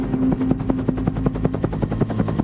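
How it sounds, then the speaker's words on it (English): A UH-1 Huey helicopter's rotor thumps in a fast, steady rhythm, loud and near, with a droning engine tone beneath the beats, flying over a battlefield. "A command and control helicopter flew 450 meters over the battlefield."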